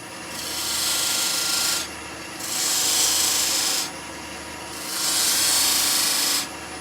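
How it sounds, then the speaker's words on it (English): Sandpaper rubs against a spinning wood-turned salt and pepper mill on a lathe in three long, loud hissing passes with short pauses between them, over a low steady motor hum. "Let's quickly sand."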